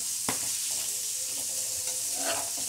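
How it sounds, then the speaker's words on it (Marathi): Fish frying in a pan over a low gas flame, a steady soft sizzle with a few light scrapes and clicks, close and alone. "मंद गॅसवर फ्राय करून घ्यायची"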